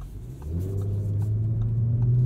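2021 Audi S4 with 3-liter V6 engine in sport mode, a deep engine drone swelling louder and steadier as it revs up from inside the car.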